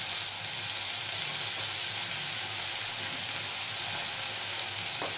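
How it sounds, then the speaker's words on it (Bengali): Onion paste frying in hot oil after a five-spice tempering for a Shillong fish curry, a dense, continuous sizzle that stays loud and even throughout, with no speech. "এবার বন্ধুরা এর মধ্যে আমি দিচ্ছি একটু পেঁয়াজ বাটা।"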